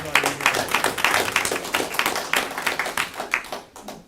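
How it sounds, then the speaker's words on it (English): Scattered clapping from a small group at a school board meeting, a modest round of hands with audible individual claps that holds for a few seconds and then fades. "So I have to give you another round of applause."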